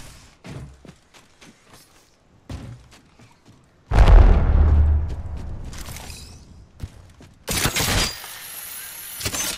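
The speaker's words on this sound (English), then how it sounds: "Throwing Arc Star." Arc Star grenade thrown and detonating in a video game: a loud burst with a crackling decay at mid-clip, a sharp electric crackle near the end, and softer clicks and thumps around them, no talk.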